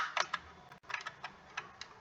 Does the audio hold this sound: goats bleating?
no